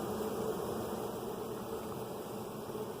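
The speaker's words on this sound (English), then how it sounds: "these bees are letting the other bees know queen's in here." A dense, steady buzzing of many honey bees from a newly caught swarm with its queen, close and continuous, with no voices.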